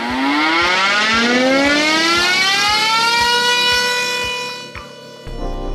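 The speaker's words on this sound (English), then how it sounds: "shutters that don't work, causing this muffled noise instead." Broadmoor motor-driven siren with faulty shutters sounding a muffled wail, its tone rising steadily and holding loud and close, with a regular low thumping pulse beneath, before cutting off near the end.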